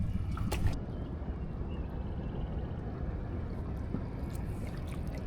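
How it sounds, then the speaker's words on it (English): A motorboat cruises across the bay while prawning in Moreton Bay, giving a steady, continuous low engine drone with water wash, and no one talks. "here today we're just cruising around in the boat, in the bay, watching the sounder"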